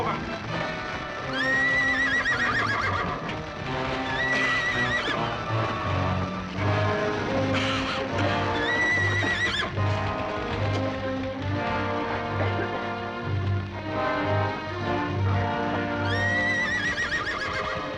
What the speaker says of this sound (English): Cut the horses, Peter, and blindfold them